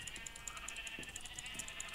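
Sheep in a survival video game bleat repeatedly, several short wavering calls that come one after another at a moderate, even level.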